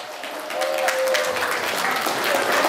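Wedding guests at a Kyrgyz celebration break into sustained applause, a dense continuous wash of clapping with a faint tonal hum beneath and some voices in the room.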